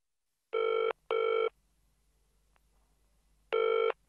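A telephone rings: two short electronic trills close together, a pause, then a third, loud and clear against near silence.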